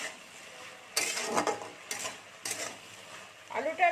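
Vegetables being stirred in a cooking pot, with potatoes and stems in a Bengali Malabar spinach seed dish: bursts of close scraping and rustling stirs with a soft sizzle underneath and a brief clink of the pot near the end.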